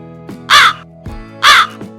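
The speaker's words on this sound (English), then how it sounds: "C-R-O-W crow" Two loud, harsh crow caws rise clearly over a low steady hum, each call about a quarter second long and spaced roughly a second apart.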